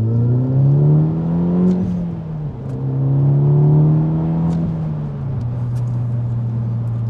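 A tuned MTM coupe's deep engine drone rises in pitch as it accelerates in second gear, dips at a gear change, then climbs and levels off into a steady, throaty hum.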